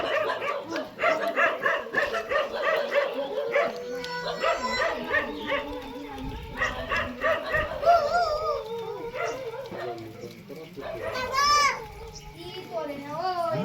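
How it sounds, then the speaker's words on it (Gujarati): Dogs fight in a village, sharp barks and yips breaking out repeatedly amid excited children's voices and shouting, loud and close throughout. "લડાઈ થાય છે કૂતરામાં"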